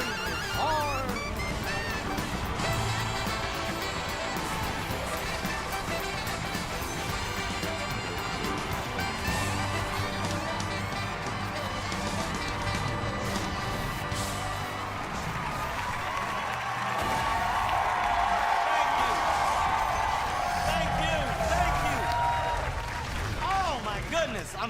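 A studio audience at a New York City talk show claps and cheers steadily, a dense wash of applause that swells toward the end, with no voices over it.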